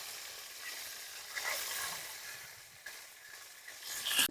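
Tuna pieces sizzling in hot oil as they are flipped in a pan, a steady close hiss with brief louder bursts and scraping, no voices.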